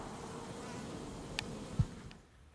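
Honeybees buzzing around a newly kept beehive outdoors: a steady, faint insect drone that holds for a couple of seconds, broken by a few soft knocks, with no voices.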